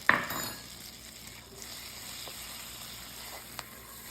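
Butter and flour sizzle in sausage grease in a cast iron pan: a soft, steady frying hiss after a brief clatter at the start, with a faint tap of a utensil later.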